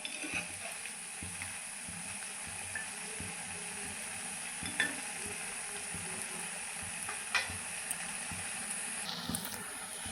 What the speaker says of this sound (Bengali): দেখুন এই 3টে আমার কিন্তু ভেজে নেওয়া হয়ে গেছে, মুচমুচে হয়ে গেছে।